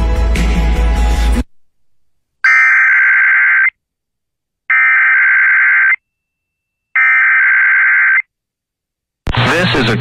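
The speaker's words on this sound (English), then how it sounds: "This is a test of the NOAA weather radio warning alarm device." NOAA weather radio warning alarm test: three long, loud, steady tones of equal length separated by short silences, with speech briefly before the first tone and after the last.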